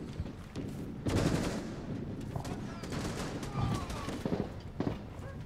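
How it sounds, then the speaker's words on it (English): Bursts of rapid gunfire in the video game Rainbow Six Siege crackle repeatedly over a busy, noisy game soundscape, with a few louder volleys standing out. "Hearing a lot of gunfire as well."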